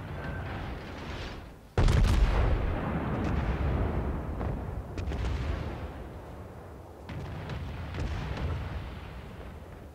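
Naval guns fire in World of Warships: a sudden heavy blast booms out and rumbles away, then several further distant thuds and rolling booms follow over about eight seconds.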